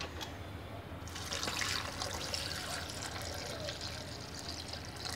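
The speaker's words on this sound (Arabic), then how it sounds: "وغنديروا الماء" Water pours steadily onto cut lemons in a blender jar for lemon and cucumber juice, a continuous splashing trickle that stays moderately loud and close throughout, with no talk.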